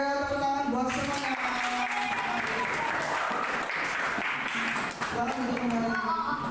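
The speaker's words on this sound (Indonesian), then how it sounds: "tepuk tangan buat semuanya" A classroom group breaks into enthusiastic clapping, a dense steady round of applause mixed with cheerful voices and chatter throughout.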